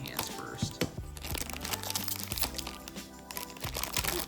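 A plastic bag holding hand parts for a Blokees Bumblebee toy robot is torn open, giving close crinkling, crunching and tearing sounds, with a person talking quietly in the background.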